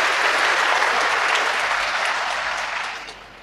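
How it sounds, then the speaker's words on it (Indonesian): A congregation at a cathedral parish celebration for a priest's 20th ordination anniversary breaks into steady, dense applause. It stays full and even, then slowly fades toward the end, with no voices over it. "Mari kita berikan tepuk tangan yang meriah."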